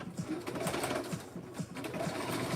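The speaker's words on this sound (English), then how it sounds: "I'm using a basting stitch, so it's going to be easy for me to take this apart" Sewing machine running a basting stitch through a bag, its needle chattering in a steady, rapid rhythm close up and fairly loud throughout, with no talking.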